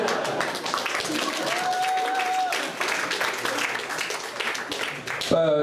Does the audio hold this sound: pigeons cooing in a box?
no